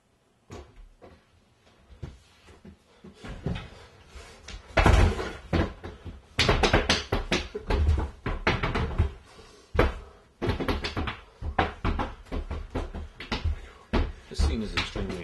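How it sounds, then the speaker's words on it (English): An actor playing a zombie bangs on a door during a horror film shoot, with repeated heavy thuds and rattling knocks arriving in irregular bursts, loud and close. "here comes Jonathan again as the zombie at the door"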